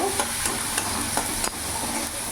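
Spices such as turmeric and chili powder being stirred in a frying pan with salt, a steady hiss of frying oil and a few light scraping strokes of a spoon.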